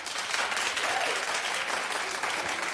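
A television studio audience claps steadily, a dense, even wash of many hands applauding at close range with no break.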